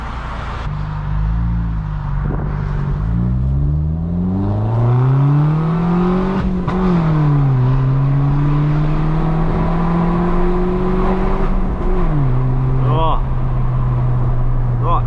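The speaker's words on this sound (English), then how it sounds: "The pops in between the shifts, oh, they're insane." A loud straight-piped BMW 1 Series accelerates hard through the gears, engine tone climbing steadily with pops between shifts, heard from inside the car; a voice talks over it.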